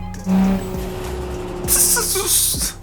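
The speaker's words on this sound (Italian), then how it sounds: "Che bel suono però, il turbo." Toyota Supra MKIV turbo engine in a driving video game, a steady engine drone with a brief loud burst early and a bright hissing turbo whoosh later, under light game noise.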